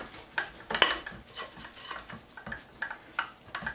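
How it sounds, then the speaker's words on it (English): A spoon scrapes and knocks against a mixing bowl while stirring tomato soup chocolate cake batter, producing a few irregular close clinks and soft swishes with quiet gaps between strokes. "let's give it one final stir"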